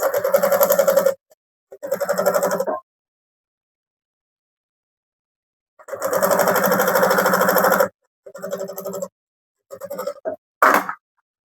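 A sewing machine stitching down the sides of a fabric bag, running in loud buzzing bursts of one to two seconds separated by silent pauses, ending with a few shorter runs.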